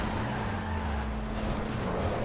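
A car engine drones steadily in GTA 5, a loud continuous low rumbling hum with a sustained engine tone and no breaks, heard close.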